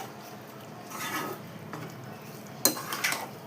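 A spoon scrapes and clinks against a pan while stirring thick spicy mutton masala gravy, a few soft stirring passes followed by a sharp metallic knock and rattles near the end, no talking.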